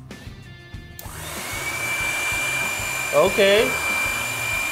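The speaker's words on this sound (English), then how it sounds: "Let's try the blow dryer." A blow dryer roars steadily and close as it blows on popcorn kernels, a continuous rushing whoosh that starts after a brief moment, with a short spoken word early on and a faint squeak midway.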